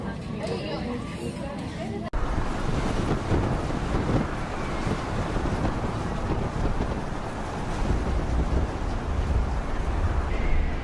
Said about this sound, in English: A giant cargo ship transports timber during a storm.